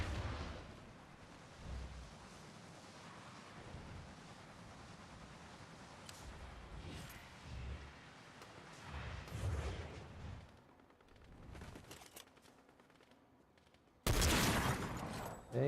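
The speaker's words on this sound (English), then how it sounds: "So we can find where that shooting is." Gunfire from a PC first-person shooter match against bots: scattered shots and short volleys over a low rumble, quieter in the middle, then a sudden loud burst near the end.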